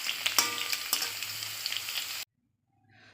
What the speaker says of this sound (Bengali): তো দেখো ওলটা এরকম ভেজে নিতে হবে